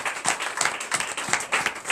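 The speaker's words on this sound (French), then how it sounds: "Donnez l'acclamation à Jésus." Congregation applauding for Jesus during a church service, a fast, moderately loud patter of many hands clapping without pause for two seconds.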